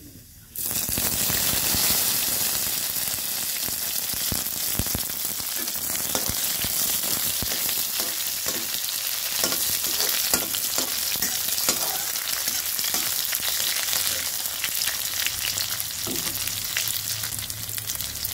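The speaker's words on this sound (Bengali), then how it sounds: "পেঁয়াজটা কিছুটা ভাজা হচ্ছে" Chopped onions fry in a pan with black cumin seeds, a steady loud sizzle filling the whole stretch with occasional scraping stirs, no voices.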